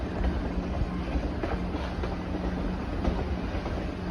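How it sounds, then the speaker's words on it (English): Great Smoky Mountain Railroad train rolling past in the Appalachian mountains near the NOC, a steady broadband rumble with faint rail clatter, fairly distant and continuous, with no voices. "Looks like the Great Smoky Mountain Railroad is coming through down by the NOC"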